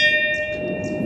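A bell at a hotel gate in the countryside near Quito, Ecuador, rings once with a clear sustained metallic tone that slowly fades, close by, with faint background noise.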